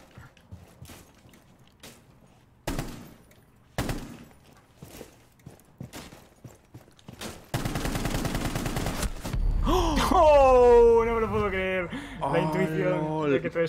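Gunfire in Rainbow Six Siege during a one-versus-one match: a few sharp single shots spaced out, then a dense sustained burst of rapid fire with a chaotic mix of game effects following, loud and close.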